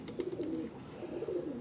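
Pigeons, including Jansar breeder birds, give soft low coos in two short rolling phrases, faint and close against a quiet background.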